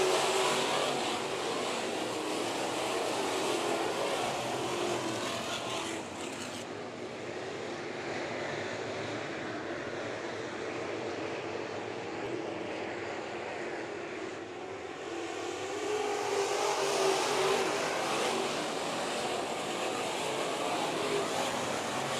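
IMCA Sport Mod race cars roar steadily around Bakersfield Speedway, a continuous loud engine drone that swells and fades slightly as the field passes, with no voices.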